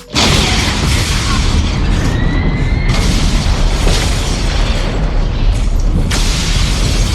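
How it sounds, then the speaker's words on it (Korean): Explosion scene from the film Terminator 2: Judgment Day, a loud continuous roaring blast with booming rumble and crackling debris lasting the full stretch, with surges and cuts between bursts, no talking. "SF 액션과 멋진 폭파 장면을 선보인 제임스 카메론 감독의 대표작 터미네이터 2 심판의 날"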